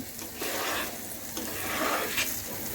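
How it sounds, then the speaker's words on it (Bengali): Rice frying for khichuri with chilli, onion, bay leaf, a little garam masala and salt, a steady close sizzle with scraping stirring strokes throughout. "এখন চালটা একটু বেশি করে ভাজা ভাজা করবো তারপর একটু হলুদ দিব"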